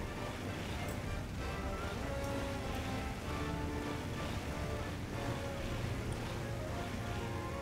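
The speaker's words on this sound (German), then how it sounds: "Motorrad auf dem Wasser, ne?" Steady broadband engine-like roar of a boat on water in World of Warcraft, with a constant drone and splashing wash running unbroken from start to finish at moderate loudness, no talk.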